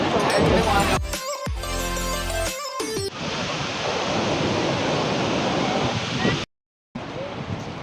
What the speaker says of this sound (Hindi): आपने ये सुना सरस्वती नदी का शोर।